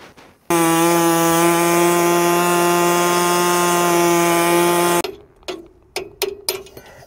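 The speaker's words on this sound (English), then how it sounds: "I've got this handy little air hacksaw." A pneumatic air hacksaw cuts through a vehicle suspension sleeve in one loud, steady buzzing burst of about four and a half seconds, followed by a few short clanks and knocks as the work is handled.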